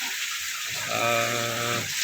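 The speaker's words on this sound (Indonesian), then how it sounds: "ini juga kandang kambing-kambing" Boer goats bleat in a pen on a goat farm in Boyolali. One drawn-out, wavering bleat rises clearly over steady background noise and hiss.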